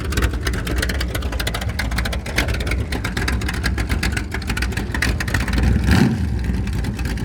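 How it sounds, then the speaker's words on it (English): Ford 302 V8 with open headers revving at an outdoor car show, a loud, raw, rapid crackling exhaust roar held steady with a brief surge of revs near the end. "But that's open header, folks. Open header. 302 Ford. Listen to that baby."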